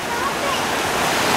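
Water rushing past a water wheel in Estes Park, a dense continuous roar of flowing water, loud and close, steady from start to finish with no break.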